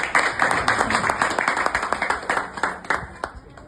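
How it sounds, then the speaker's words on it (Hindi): An audience at an evening Hindi devotional music gathering claps along, with crisp, fairly close hand claps that are loosely rhythmic and fill the short stretch. "ताली वाली बजाओ।"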